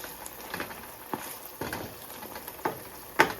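An omelette scramble simmers in olive oil in a pan, a soft continuous sizzle broken by irregular spattering pops and stirring scrapes, close and moderately loud.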